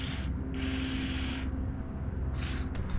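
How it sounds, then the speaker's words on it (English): Graphite lubricant is sprayed onto the seat latch of a Suzuki Carry in three hissing bursts of about one second each, close and steady over a low background hum. "I'm gonna lube the latch with graphite spray."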